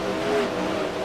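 Race cars on a track during a multi-car battle, a brief burst of close engine drone with revving, several cars blending into a continuous roar.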